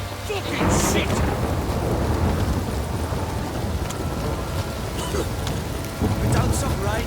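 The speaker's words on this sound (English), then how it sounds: "It's ploughing, pouring again." Heavy rain pours steadily while deep thunder rumbles and cracks nearby in the video game The Witcher 3: Wild Hunt, swelling loud near the start and again toward the end.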